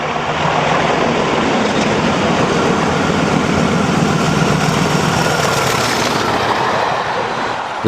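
Class 40 diesel locomotive 40145 running on the British main line, a steady loud rumble of engine and rolling stock with faint rail clatter, continuous and close throughout.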